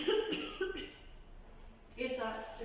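A patient gives a few short, forceful coughs while a therapist applies compression during a forced expiratory technique, with soft breathy pauses between the bursts.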